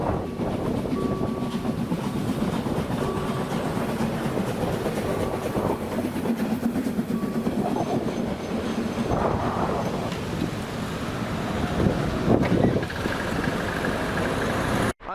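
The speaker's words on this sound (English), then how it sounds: "came across this steam train." A steam train runs along the rails, a steady rumbling roll with clanking and a few brief whistle-like tones, heard close and fairly loud without speech.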